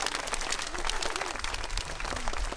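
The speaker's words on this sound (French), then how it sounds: "je pense qu'on peut l'applaudir bien fort pour ça" Applause for a woman during a day out in Amiens, a dense burst of clapping from a group, close and fairly loud, continuing steadily throughout with a few faint voices mixed in.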